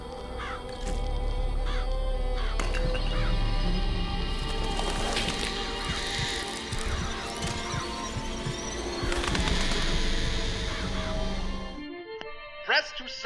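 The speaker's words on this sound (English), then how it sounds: "I have the ability to throw crows at people." Crows cawing from the Murder of Crows vigor in BioShock Infinite, harsh bird calls and fluttering over dense, loud game noise with crashes, then cutting out abruptly near the end.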